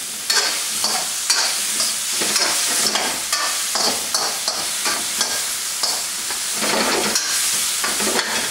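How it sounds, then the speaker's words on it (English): Pork and onions stir frying in a pan for hot and sour soup, a continuous loud sizzle with repeated scraping and tossing of the utensil against the pan throughout. "Keep stir frying."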